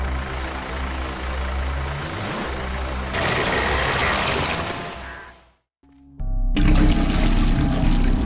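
Liquid pours steadily into a boiler tank in the video game Happy's Humble Burger... Happyhills Homicide, a continuous splashing trickle over a low engine-like hum, then a brief silence and a louder gush with faint tonal beeps.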